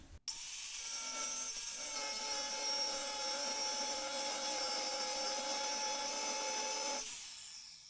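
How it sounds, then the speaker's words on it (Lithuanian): A new angle grinder cuts metal on a BMW under repair for inspection, giving a loud, steady high-pitched whine that runs unbroken for about seven seconds before cutting off. "Bus proga naują bulgarkę išbandyti."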